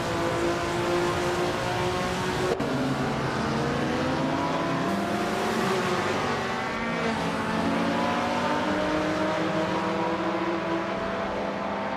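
A 1970 McLaren M8 GT mid-engine race car in a racing video game roars loudly, its engine note rising and falling through gear shifts with faint tire squeal, continuous and close.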